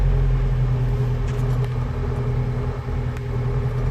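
A Volvo Amazon 122S with its B18 engine, running lean and overheating, pulls at full throttle with a loud, steady low rumble and a droning exhaust note that holds without a break.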